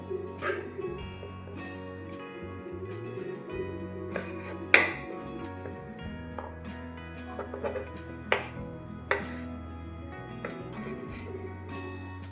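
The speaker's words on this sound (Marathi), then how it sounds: "पपईच्या बिया मी काढून घेतल्या आहे। आता आपण बारीक फोडी करून घेऊ।" A knife chops deseeded papaya into small pieces for fruit salad, producing scattered sharp taps on a board at an irregular pace, fairly close, over a low background hum, with no talk.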